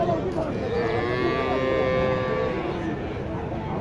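A Friesian cow moos at a busy cattle market, one long, drawn-out low call rising over the crowd murmur and background chatter.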